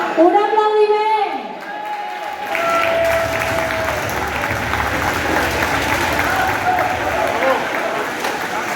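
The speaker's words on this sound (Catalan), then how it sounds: "Un aplaudiment." A crowd at a fideuà cooking contest in La Pobla Tornesa claps loudly and steadily after a short stretch of voices, with the applause sustained until the end.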